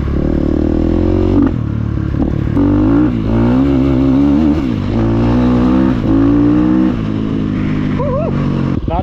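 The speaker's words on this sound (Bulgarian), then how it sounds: "Даваш му газ и мотора тръгва." A fuel-injected 2012 KTM 250 EXC dirt bike engine revs loud and close, its throttle rising and falling in repeated surges over a steady idle, with a voice talking faintly beneath.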